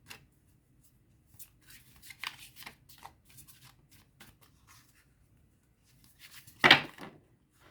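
Tarot cards handled and shuffled during a reading, soft scattered riffles and taps on a quiet table, with one louder sharp snap of cards near the end.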